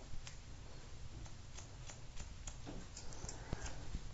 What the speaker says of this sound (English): So I'm just going to lift this up and point cut it.